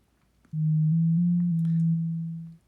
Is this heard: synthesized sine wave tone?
yes